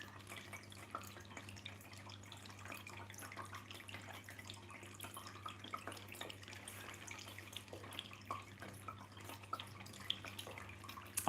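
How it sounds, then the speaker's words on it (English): A pumped garden waterfall gives a continuous soft trickle and tinkle of running water, faint and steady with small drips throughout, no voices. "You can adjust the pump, and when I had it slower, it really didn't give you the tinkling sound, the water."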